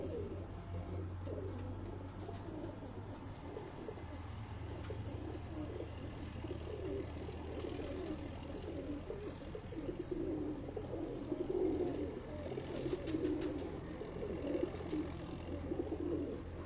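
Pigeons kept by a breeder, with a young pigeon sitting in the loft, coo in low steady murmurs, faint and continuous throughout.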